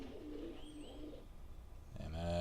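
Pigeons coo in a park, with soft low warbling calls early on and a louder, closer cooing bird rising at the end over faint outdoor ambience.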